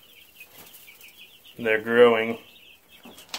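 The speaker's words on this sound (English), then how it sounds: "I've got chickens," Chickens call near a farm, with a loud harmonic squawk in the middle over soft chirping, while someone speaks briefly.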